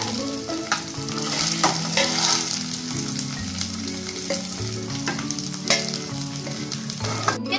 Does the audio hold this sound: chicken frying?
yes